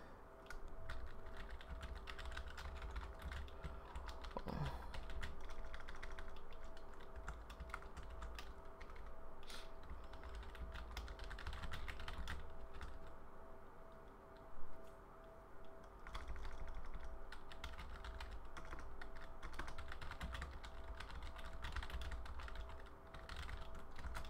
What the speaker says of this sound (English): if I can finish typing fast enough